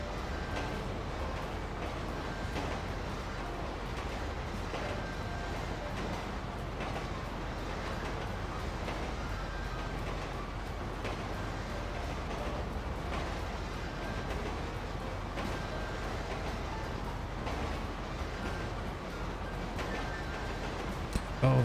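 Continuous low rumble of a moving train in a video game, with a steady clatter and faint squeals, unbroken throughout with no voices.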